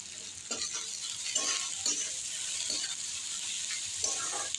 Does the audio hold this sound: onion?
yes